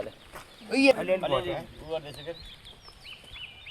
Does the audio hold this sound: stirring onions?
no